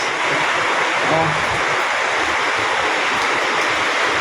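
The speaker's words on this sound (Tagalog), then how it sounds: "Ramdam na ramdam ko ang lakas ng ulan" Heavy rain pours steadily in windy weather, reaching right up to a house doorway, a dense, constant loud hiss that continues without a break.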